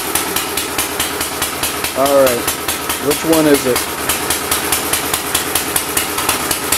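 A 1929 Briggs & Stratton FH engine runs with a steady, fast rhythmic chugging that stays loud and close throughout, while someone speaks briefly over it.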